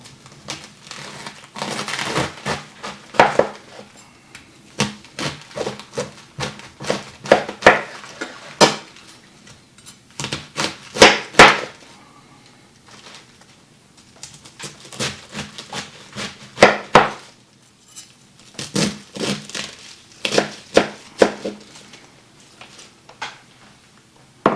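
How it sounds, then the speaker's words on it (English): Cabbage being chopped for a KFC-style copycat coleslaw, irregular bursts of sharp knife strikes and crunching against a board, close and fairly loud, with brief pauses between runs of cuts and no talking. "let me get started on chopping up my cabbage"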